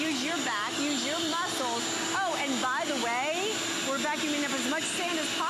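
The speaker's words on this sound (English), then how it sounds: "you're having to talk over this huge, loud vacuum cleaner" Loud vacuum cleaner running steadily, sucking up sand, a constant roar throughout with a voice speaking over it.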